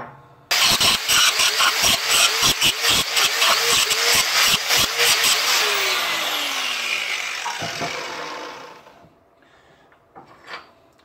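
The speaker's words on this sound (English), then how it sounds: "grind these channels on both sides and in these inside edges too, so that we get a nice deep weld when we put them together" A grinder works along steel channels for a trailer axle, giving loud rasping bursts in quick repeated strokes. It then winds down with a falling whine and goes quiet.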